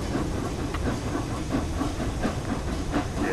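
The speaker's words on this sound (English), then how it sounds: "There is steam." Steam hisses steadily from the Flying Scotsman locomotive in Train Sim World 4, a continuous broadband rush with faint rhythmic chuffs and clicks underneath, fairly loud and close with no talking.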